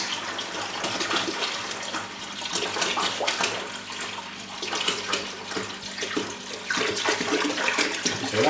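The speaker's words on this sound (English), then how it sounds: "suitable bucket full of RO water" RO water pouring into a bucket, a steady splashing gush with irregular bubbling surges, close and fairly loud throughout, with no one speaking.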